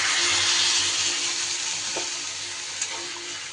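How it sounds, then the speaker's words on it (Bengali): Water poured onto vegetables frying in a pan sets off a loud, continuous sizzling hiss that slowly eases, with a couple of faint utensil knocks, heard up close without speech. "এবার আমি দিয়ে দিচ্ছি জল।"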